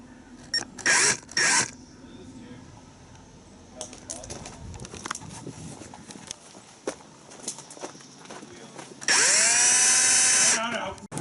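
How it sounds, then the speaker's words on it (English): Power wire wheel scouring rust off brake calipers during a Datsun Z rebuild, a sharp loud burst of whirring near the end after scattered clattering, knocks and brief noisy bursts. "Using a wire wheel to get the rust off."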